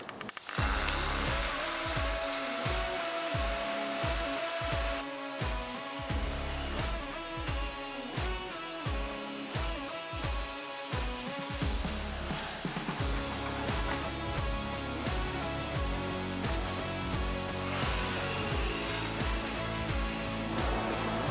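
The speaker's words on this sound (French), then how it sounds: "Je vais laisser la disqueuse décider." An angle grinder cuts through a cast metal part in a rough, loud, sustained whine, rising and dropping as the disc bites and stutters in pulses, then running more continuously toward the end.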